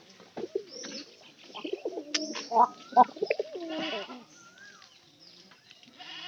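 Pigeons coo with soft, rising and falling throaty calls, interspersed with sharper bird calls and bleat-like sounds nearby, while a person talks over them at a moderate distance.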